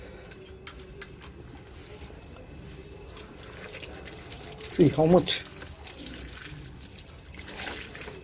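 Water poured over a Bajaj Passion Pro motorcycle air filter during cleaning, a brief splashing trickle in the middle over a low background, with someone talking.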